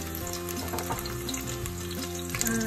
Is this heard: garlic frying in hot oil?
yes